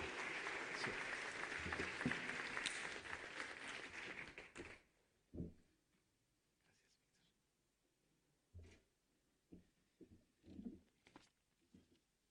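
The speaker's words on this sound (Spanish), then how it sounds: "Vamos a recibirlo con un fuerte aplauso." A church congregation bursts into loud, dense applause to welcome a guest speaker, lasting several seconds before cutting off into near silence with a few faint taps and soft knocks.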